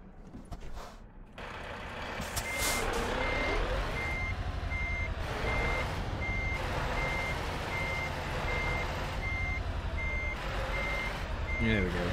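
A truck in Euro Truck Simulator 2 parks while its reversing alarm beeps steadily over a continuous diesel engine drone, loud and close, with no talk.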